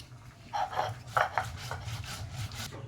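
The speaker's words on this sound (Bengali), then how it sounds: "রাঁধুনি আর জিরেটা ভালো করে বেটে নেব।" Radhuni and cumin seeds being ground on a grinding stone, giving a steady gritty rubbing with repeated scraping strokes over a low hum, close and fairly quiet, with no voices.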